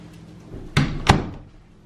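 A room door is pushed shut, two close, solid thuds about a third of a second apart that fade quickly into a quiet, dim room.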